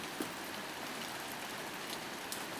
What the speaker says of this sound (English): so it's raining like crazy